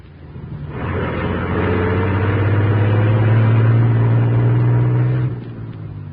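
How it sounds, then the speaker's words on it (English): A huge truck rumbles out of an alley in a radio drama, a deep, loud engine drone that swells in, holds steady for several seconds, then eases off with no talk over it. "As the huge truck rumbled out from the alley"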